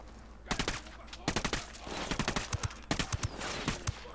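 Bursts of automatic gunfire in Ghost Recon Wildlands, several rapid volleys of sharp close shots separated by short pauses, with someone talking faintly underneath.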